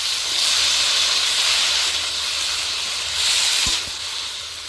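River chela fish and chopped gourd stems sizzling in a hot pan while being stirred, a loud, steady hiss filling the whole stretch, swelling slightly as the mix is turned, with a faint knock near the end.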